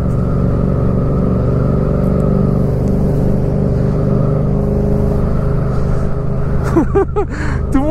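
Car driving on the road with a loud, steady engine rumble and road noise inside the cabin, and a voice speaking briefly near the end.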